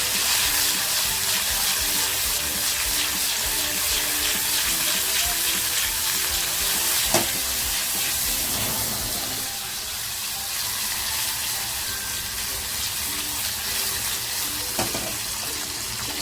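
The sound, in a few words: pomfret fish with turmeric and salt frying in hot oil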